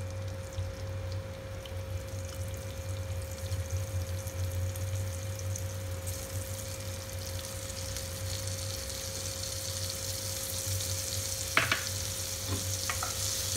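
Paneer cubes fry in turmeric-tinted oil, giving a steady, close sizzle throughout with a low hum beneath and a few brief clinks of a utensil near the end.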